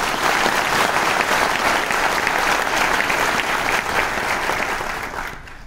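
An audience at a business-plan gathering bursts into strong, sustained applause for a doctor: thick, even clapping that holds steady, then tapers off at the very end.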